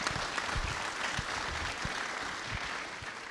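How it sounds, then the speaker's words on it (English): An audience at an industrial procurement forum applauds its panelists, a steady, fairly distant wash of many hands clapping that lasts the whole stretch without voices. "Let's give a round of applause for our panelists"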